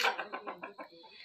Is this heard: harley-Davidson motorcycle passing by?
no